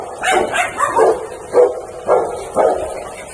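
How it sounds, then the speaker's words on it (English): A dog barks repeatedly in a backyard, with about six sharp, fairly loud barks in an uneven rhythm that rise above quiet outdoor background. "There is a dog."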